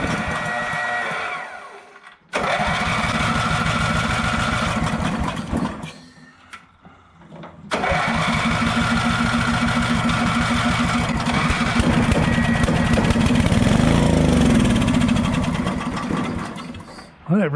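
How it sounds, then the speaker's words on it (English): A Dayton generator engine, started by an electric starter and run on carburetor cleaner, cranks and fires into a loud buzzing run, cuts out briefly twice, then restarts and runs steadily to the end. "Flip the on switch and hit the starter button."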